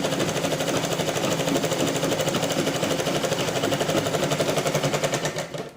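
A sewing machine runs steadily along the very edge of a blouse hook strip, its needle clattering in a fast, even rhythm at close range for the whole stretch before stopping abruptly.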